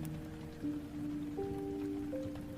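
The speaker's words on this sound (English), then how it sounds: "rain pattering against the roof in a ceaseless whisper" Steady rain patters on a roof in a continuous soft hiss, with faint tonal hum lines running underneath throughout.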